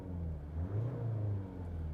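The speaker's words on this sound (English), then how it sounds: "Has a slightly different sound than a gasoline engine, but it's not that bad." Inside the cabin of a Mazda CX-5 with a diesel engine, the motor revs in a short, quiet rise and fall, a muted low hum swelling briefly before settling back.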